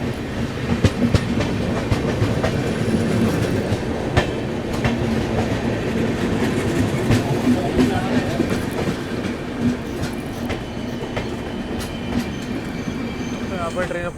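The Poorvottar Sampark Kranti Express, with sleeper coaches, running near Ghaziabad, heard from on board as a continuous loud rumble with rhythmic clickety-clack of wheels and occasional squeals, and a voice speaking faintly beneath.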